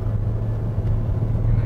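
A Mitsubishi Xpander with a 1.5 engine hums steadily and low while climbing a steep slope in second gear, a constant moderately loud drone heard from inside the cabin.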